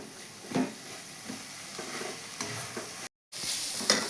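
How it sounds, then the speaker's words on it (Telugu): Amaranth leaves and potato fry in a pan with a soft continuous sizzle, broken by scraping stirs of a spatula and one brief silent gap, close but fairly quiet. "ఆ నీరంతా పోయిన తర్వాత కొద్దిగా ఫ్రై చేస్తాను."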